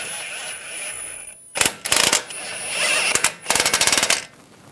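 A power tool drives in and snugs bolts on the front backing plate of a 2011-2018 Ram 1500, with two loud close bursts of rapid impacts separated by a quieter stretch.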